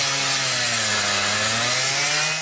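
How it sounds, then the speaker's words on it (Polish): A loud, continuous power saw cuts through an aircraft wreck, its droning, buzzing whine holding steady up close throughout. "Bo przecież wszyscy widzieliśmy, że był piłowany,"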